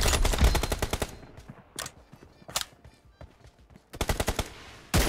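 Rapid automatic bursts from a Groza assault rifle in the mobile shooter BGMI, loud and close, with a long opening burst, scattered single shots, then another sharp rattling burst near the end.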